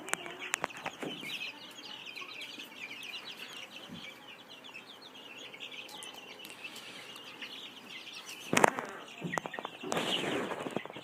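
Over 100 egg-layer chicks of five breeds in a brooder, a dense continuous chorus of high peeping and cheeping, close and lively, with a few bursts of flapping and scuffling.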